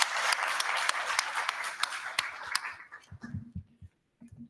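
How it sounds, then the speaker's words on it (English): Audience applause for staff at a board of education meeting, a steady patter of many hands with a few sharp nearby claps, tapering off before a voice speaks low as it ends. "If you will join with me in a round of applause for my staff."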